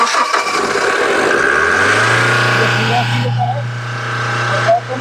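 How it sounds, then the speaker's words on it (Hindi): A BS6 Mahindra Bolero pickup with an SCR warning light, low DPF soot mass fault and DTC P2463 cranks, catches and settles into a loud, steady diesel idle with light revving, while people talk nearby. "एक बार गाड़ी को स्टार्ट करके रेस करके और दिखाते हैं गाड़ी को"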